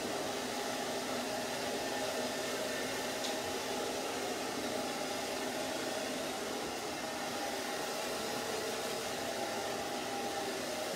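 A hair dryer blows steadily on a short layered haircut, making a loud, even whoosh of air that holds without a break for the whole stretch.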